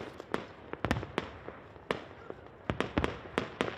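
New Year fireworks over the Acropolis of Athens, Greece, popping in a rapid irregular string of sharp bangs and crackles, some near and loud, others fainter, with no voices.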